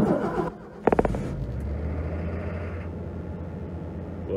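A 1986 Ford F150 truck cold-starting on a winter day, a short cranking stutter followed by the engine catching into a steady, slightly high low-pitched idle nearby.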